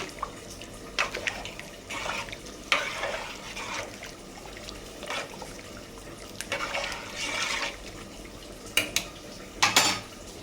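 Bagara rice being stirred in a pot makes clinks and scrapes of a utensil against metal, in irregular bursts with wet, grainy rustling between them.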